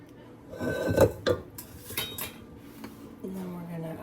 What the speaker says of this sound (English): Mix it one more time very gently.